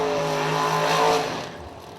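Drag race cars, 6-0 index machines including a 400-inch Ford small block, roll up to the lanes for round 2 qualifying, a loud, close engine rumble with a steady drone that eases off after a second.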